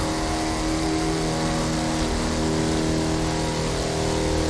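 A race car engine in the offroad racing game The Crew 2 roars as a steady, loud drone with a layered harmonic whine, unbroken for the whole stretch with no voices.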